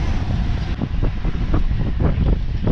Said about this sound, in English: So right now we're just motoring to where we want to anchor.